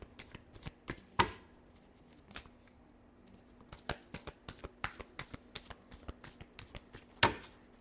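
Tarot cards are shuffled by hand, a quiet close series of riffling snaps and irregular papery taps, with two sharper flicks standing out, and no talking.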